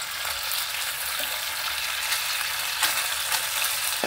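Skinless longganisa sausages from Pampanga fry in a pan with a dense, steady sizzle and crackle, close and continuous, with a few brief stirring scrapes and no voices.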